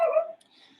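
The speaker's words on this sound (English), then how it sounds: "My dog is barking at the trash man." A pet dog gives one short, high bark or yip at a garbage collector, close by, then it fades into near silence.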